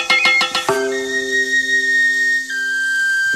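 Prehispanic ocarinas, whistles and flutes: a few quick piping notes, then long sustained shrill whistle tones that hold and shift pitch, loud and clear with no voices.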